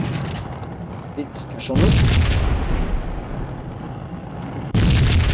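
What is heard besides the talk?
explosion in the video game Max Payne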